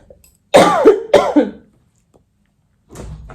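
A person coughs twice in quick succession, close and loud, followed by a quieter rustle after a pause.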